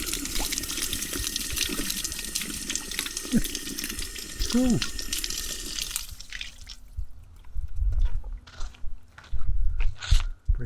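Fresh water runs from a small hole in a roadside fountain in Portugal, a steady close trickle and splash that is briefly interrupted by handling noise and a short spoken word.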